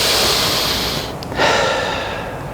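Deep breathing during a guided moment: one long, loud, breathy exhale, a brief pause, then another airy breath, close and alone.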